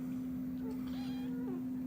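A 7-ounce kitten with a white chest meows loudly and repeatedly, several rising cries in close succession over a steady low electrical hum.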